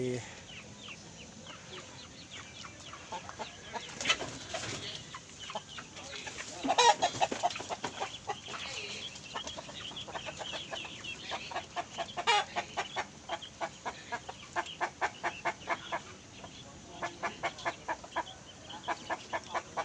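Backyard laying hens cluck steadily, with rhythmic bursts of clucking and an occasional louder squawk, fairly close, while a person speaks intermittently in the background.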